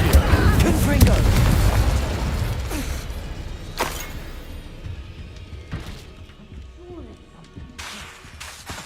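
Confringo spell blast in Hogwarts Legacy, a heavy booming burst at the start that rumbles and fades over several seconds, with sharper cracks and whooshes scattered after and a voice speaking over it.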